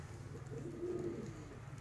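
Fancy pigeons, breeding pairs sitting on eggs in the sun, give a soft, low, continuous coo, faint and fairly close, with no voices over it.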